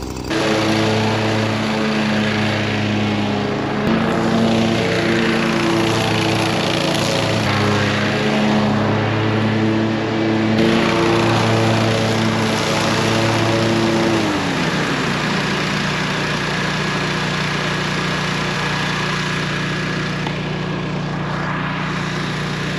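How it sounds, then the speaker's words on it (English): A lawn mower engine drones steadily while mowing, loud and close, its pitch holding through most of the stretch before dropping to a lower, rougher idle near the end. "I was just mowing along here"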